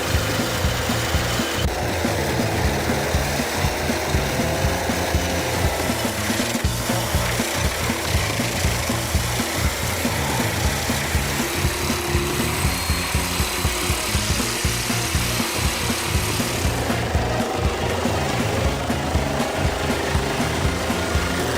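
An ETH 1400 820 wood-processing crusher grinds through timber with a loud, unbroken roar and dense rasping churn. The sound holds steady and close throughout, with no voices present.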